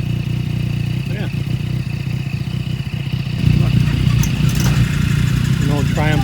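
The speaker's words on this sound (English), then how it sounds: "An old Triumph here. But of course, it's having problems starting." An old Triumph motorcycle engine sputters and turns over, struggling to start, with a rough low rumble that swells partway through. People talk over it throughout.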